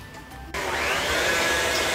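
An electric mixer switches on and runs steadily, creaming butter with half a cup of brown sugar for a sweet potato casserole. A quieter hum comes first, then a loud, continuous whirring drone with no talking.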